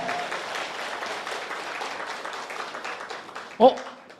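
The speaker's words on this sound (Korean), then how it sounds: "힘찬 박수로 한번 출발해 볼까요?" Steady applause from a crowd at a company business presentation fills the stretch, with a short sharp knock near the end.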